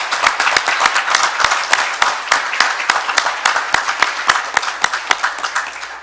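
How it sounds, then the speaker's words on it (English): Close, sharp hand clapping from a small group at a town council meeting, honouring a local hockey team, with distinct individual claps in a quick, uneven rhythm throughout. "Let's give these guys a round of applause."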